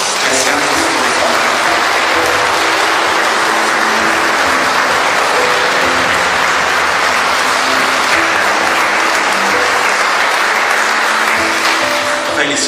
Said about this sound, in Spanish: Démosles un fuerte aplauso reconociendo que se han formado.